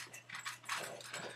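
A dog eating from a bowl and snorting a little, with faint, close snuffling and clinking noises in an otherwise quiet room.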